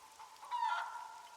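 A chicken in a hunting video game gives a faint, short clucking call, quiet and somewhat distant, with no talking over it.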